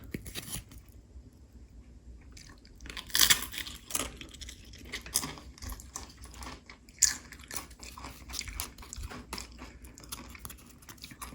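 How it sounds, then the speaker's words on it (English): Crunchy snack being bitten and chewed close up with spinach dip, repeated crisp bites and munching in an irregular rhythm, a few sharper crunches standing out. "let's try this dip to see how it tastes"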